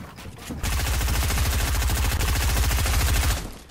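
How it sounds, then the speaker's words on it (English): Rapid, continuous automatic gunfire from other players in a video game, loud and close, a dense unbroken burst lasting a few seconds after a brief lead-in. "He hears other people shooting at him."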